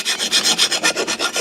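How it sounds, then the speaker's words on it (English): A hand file rasps rust off the inside of a 2018 Toyota RAV4 front brake part, with about ten steady, loud back-and-forth scraping strokes in an even rhythm, close up and with no voices. "now I'm just going to tune up the inside a little bit that I can reach with the file"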